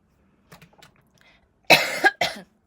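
Two or three sharp, harsh coughs close to the mic, preceded by a few quiet shuffles and small noises.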